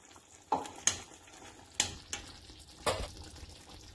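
A spoon knocks and scrapes a few times against a pan while lemon butter chicken with lemon juice is stirred, giving four or five sharp distinct clanks over a faint sizzle in an otherwise quiet kitchen.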